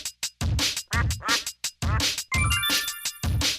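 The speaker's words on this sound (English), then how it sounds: "It's a duck." Several loud, close duck quacks come in a quick rhythmic run with short gaps between them, joined near the end by a light jingling chime.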